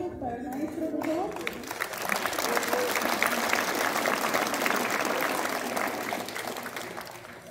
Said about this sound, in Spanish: Fuerte los aplausos para el maestro, por favor.